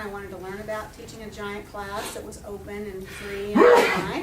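A single sharp sneeze bursts out near the end, cutting across a person's steady talking.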